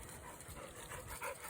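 Several dogs at play, panting steadily close by with soft breathy huffs and small whimpering sounds, in a continuous low scuffle and no talking.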